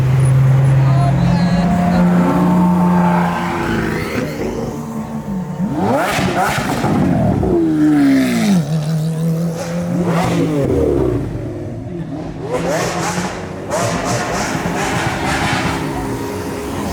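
Sports cars including a McLaren 720S and an Audi RS5 pass close by on a group drive, engines revving and roaring in loud successive swells, with people talking over them.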